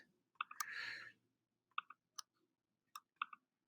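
Computer mouse buttons clicking while photo-editing software is used, faint, crisp single and double clicks spaced irregularly over a quiet room, with one brief soft rustle near the start.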